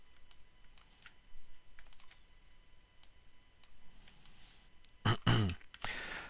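A computer keyboard being tapped for a shortcut key combination, scattered soft clicks through quiet room tone, followed by a louder burst of nearby sound near the end.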